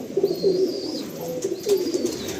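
Regdar pigeons kept at home coo nearby in two repeated phrases of low, throaty burbling notes, with a thin high whine and faint background noise.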